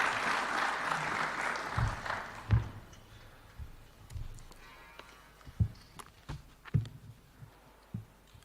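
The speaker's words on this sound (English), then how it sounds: "Why don't we welcome him with a warm clap as he approaches the stage." Audience applause for a university chancellor approaching the stage at a live event, a broad wash of clapping that fades after a few seconds into scattered thuds and footsteps in a large room.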